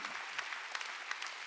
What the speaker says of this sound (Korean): 얘기한 걸 믿으면 박수 치라.